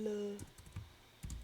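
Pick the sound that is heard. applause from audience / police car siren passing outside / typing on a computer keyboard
typing on a computer keyboard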